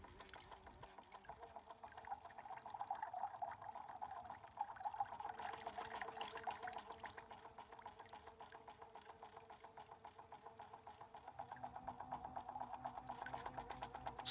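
Paint running from an airless paint sprayer's return hose into a waste bucket, a faint, continuous trickling and gurgling pour with a soft mechanical hum underneath.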